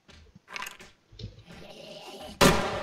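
A single loud gunshot cracks out near the end in 7 Days to Die Alpha 18, during a bunker assault, after a stretch of quieter shuffling and clanking game noises.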